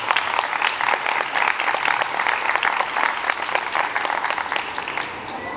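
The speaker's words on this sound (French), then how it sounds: "Je voudrais qu'on applaudisse Gérard Rode" An audience at a festival speech applauds steadily, with dense, sustained clapping filling the whole stretch and no voices over it.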